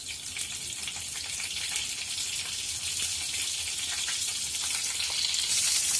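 Spices, chili, salt and mustard sizzle in hot oil in a pan for a traditional Mithila dish, a close, steady, hissing fry that grows slightly louder over several seconds, with no talk.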